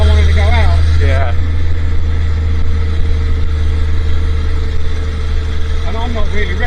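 An old Bedford RL truck engine with no air filter runs at a low, steady idle, rumbling close by, with brief voices at the start and end.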